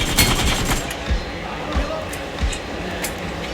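Rapid gunfire crackles in a BGMI team deathmatch, bursts of shots with a few heavier thuds spread unevenly over a few seconds, loud and close.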